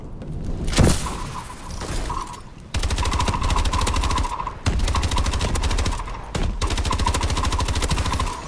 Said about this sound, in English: We gotta use this first energy gun